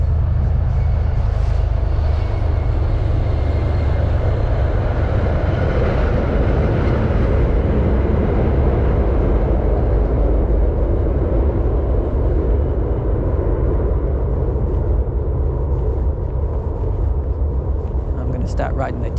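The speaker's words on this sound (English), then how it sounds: "here comes a commuter rail train too." A commuter rail train passing near the Neponset River in Boston's Dorchester, a loud continuous low rumble and rolling rush that holds throughout while a person talks over it.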